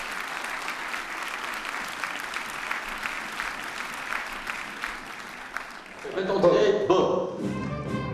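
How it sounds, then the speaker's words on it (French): Studio audience applause on a French TV game show as a returning champion heads back to her seat, a steady wash of clapping that swells louder near the end. "Sous les applaudissements du public."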